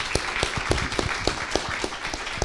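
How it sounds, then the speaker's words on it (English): A modest audience at a San Quentin film night claps, sharp individual hand claps in an uneven rhythm, fairly close and moderately quiet. "Give yourselves a round of applause."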